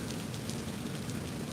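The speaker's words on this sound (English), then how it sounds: "This rain seems to be thinning out a little now." Rain pouring during a heavy storm at Disney, a steady, dense hiss of falling water that runs evenly throughout without a break.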